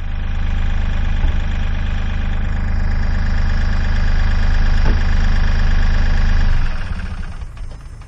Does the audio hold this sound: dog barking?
no